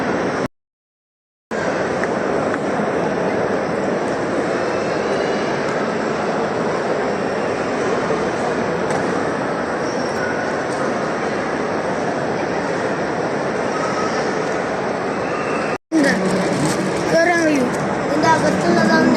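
Inside a flight simulator in Dubai Mall, a steady, loud roaring aircraft drone runs unbroken for about fifteen seconds, preceded by a brief silent gap and ending in a sudden cut to a changed mix.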